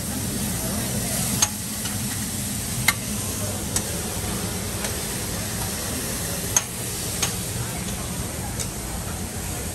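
Delmonico and New York strip steaks hiss steadily on a buffet grill at a Lancaster, Pennsylvania smorgasbord, with a constant sizzle and scattered sharp ticks of utensils while people talk over it.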